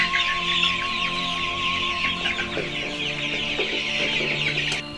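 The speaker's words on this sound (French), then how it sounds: "il s'emploie dans l'élevage des poules" Chickens clucking steadily in a poultry-rearing operation in Okola, a dense chorus of hens close by with overlapping calls and a continuous murmur of the flock, no voices.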